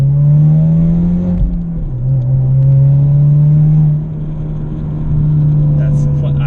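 A 6th gen Chevrolet Camaro convertible accelerating with a deep, loud engine drone heard from inside, pitch dipping briefly at a shift and again later before climbing back, with voices talking over it.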